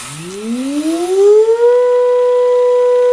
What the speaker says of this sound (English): you actually get to hear the tones generated directly off the tone wheel